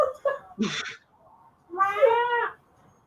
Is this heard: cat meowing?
yes